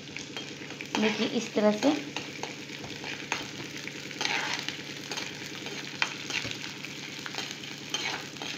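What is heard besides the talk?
gond (edible gum) roasting in a pan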